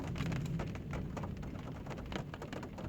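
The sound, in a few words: heavy rain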